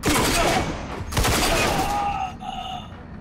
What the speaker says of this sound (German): Irgendeiner hat dann noch geschossen.